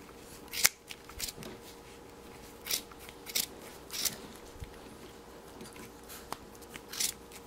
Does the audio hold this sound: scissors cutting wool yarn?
yes